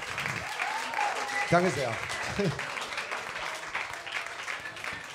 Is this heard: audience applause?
yes